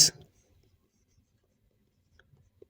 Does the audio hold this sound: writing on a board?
yes